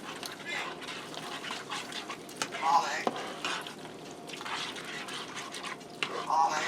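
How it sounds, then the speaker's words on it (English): Heavy whipping cream being stirred into macaroni in a single pot, making soft wet sloshing and squelching with a couple of light utensil clicks, moderately quiet and steady. "I'm going to add in some heavy whipping cream, about a half a cup. And I'm going to give that a stir."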